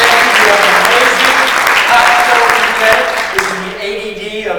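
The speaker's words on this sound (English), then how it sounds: "So if you would give please a big round of applause." A conference audience gives a big round of applause, dense clapping from a large crowd that tapers off near the end, with a voice talking over it.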